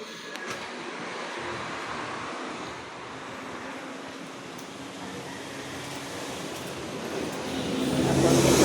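Steady road noise from vehicles passing on a highway in Taal, Batangas, a continuous broadband rush that swells louder toward the end as traffic draws closer, with no one talking.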